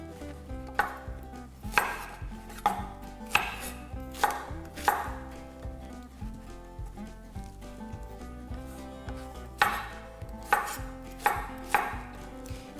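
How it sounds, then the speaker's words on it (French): A knife chops okra on a cutting board in a home kitchen, with sharp, rhythmic knocks in uneven bursts over soft background music. "je continue à couper le okra"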